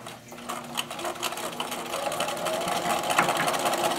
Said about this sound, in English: I'm going to do it with my sewing machine